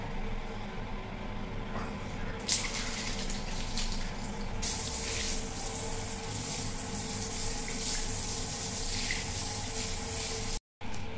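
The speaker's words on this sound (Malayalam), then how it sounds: "ഇനി വെള്ളം ഒഴിച്ച് കാണിക്കാം." Water poured and splashing across bathroom floor tiles after stain cleaning, a continuous broad rushing hiss that swells partway through and runs nearly the whole time before cutting off abruptly near the end.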